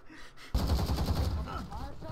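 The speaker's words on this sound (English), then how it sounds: "It's the fucking shotgun in A." A shotgun fires in the Call of Duty: Modern Warfare video game, a sudden loud boom after a quiet start, then a booming tail that fades slowly.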